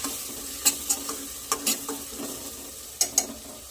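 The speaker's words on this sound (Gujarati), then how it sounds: "હવે બધું સરસ મિક્સ કરી લઈએ।" A spoon stirs ground spices, salt, turmeric and garam masala into pav bhaji in a pressure cooker. Scrapes and taps against the metal pot come at irregular intervals over a low sizzling hiss, close by and without talk.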